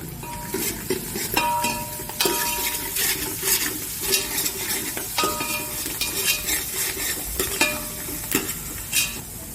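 Fenugreek leaves go into a hot frying pan and are stirred, bringing sizzling with repeated metallic scrapes and clinks of a spoon against the pan in an uneven rhythm.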